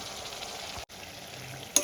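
Ground coriander, chili, turmeric and cumin powders hit tomatoes frying in oil in a pan, making a soft steady sizzle with a brief stirring scrape near the end and no talk.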